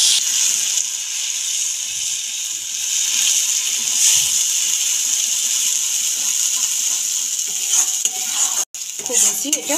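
A paste of mustard, poppy seed and coconut fries in fish oil with five-spice seeds, hissing in a steady high sizzle with light stirring, one sharp knock near the end, then brief rustling.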